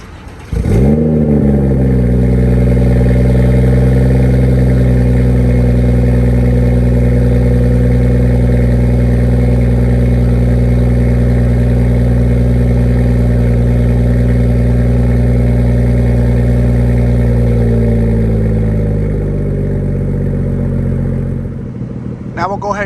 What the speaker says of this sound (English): this is the Dinan full exhaust system for the BMW 340. I have a stock downpipe. Let's go ahead and get a start up.